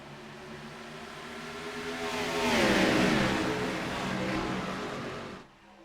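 Pack of ISRL race cars roars up together at a green flag restart on a Chicagoland oval, engine pitch sweeping upward as the field accelerates, loudest mid-pass and then falling away.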